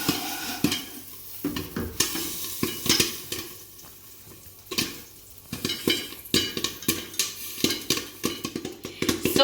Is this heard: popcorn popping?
yes